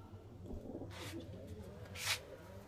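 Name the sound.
pigeons cooing in a pigeon loft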